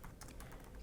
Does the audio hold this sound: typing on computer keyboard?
yes